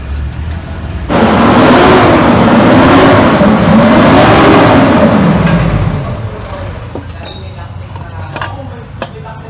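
Toyota Fortuner with a downpipe fitted and the catalytic converter deleted, its engine revved hard in a loud, close, sustained surge with a rising turbo whistle, then dropping back to a lower idle rumble.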